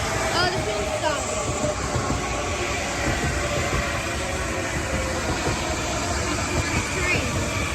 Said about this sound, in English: Oh, the train stopped.